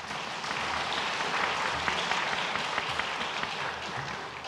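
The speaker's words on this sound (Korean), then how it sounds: "잠깐 자리에서 일어나 주시면 우리 큰 박수로 환영하겠습니다." A church congregation at a Sunday worship service applauds to welcome guests, a sustained, even wash of many hands clapping at moderate volume with no talking over it.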